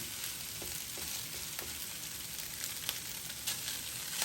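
Garlic fried rice sizzling steadily in a frying pan as it is stirred and mixed, with soft scraping clicks from the utensil scattered over the constant hiss, close and moderately quiet.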